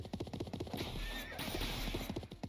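Cavalry horses in the strategy video game Symphony of War neigh and whinny loudly over a rapid rhythmic clatter of hooves, the whinny rising in the middle and sounding close.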